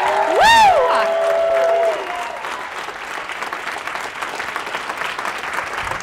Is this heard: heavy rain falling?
no